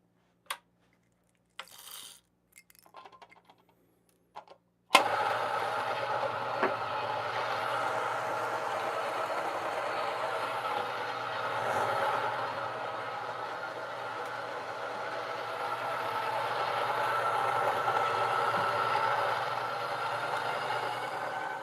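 Niche Duo 83mm coffee grinder starting after a few brief clicks and handling noises, then a steady, fairly loud whirring grind with a rattly edge that runs continuously, close up, with no voices.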